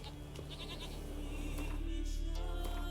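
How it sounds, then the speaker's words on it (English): A goat bleats in The Witcher 3 video game, a few wavering cries over a steady low game ambience and background music. "Cheers to you, oh goat."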